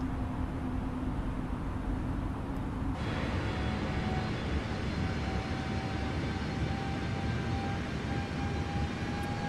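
Airliner engines hum steadily through a thrust climb in Microsoft Flight Simulator, a dense cockpit drone with a thin whine. Partway through, the tone shifts and brightens, then continues unbroken at an even loudness with no talking.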